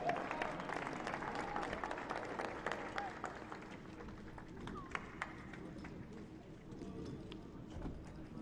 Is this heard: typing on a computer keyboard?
no